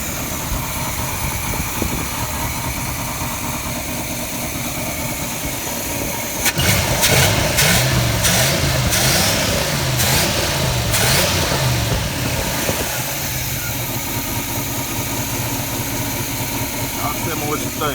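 A 1984 Capri station wagon's 350 V8 runs through bad mufflers with a steady, rough rumble, swelling louder in a stretch of uneven revving midway, with people talking over it throughout.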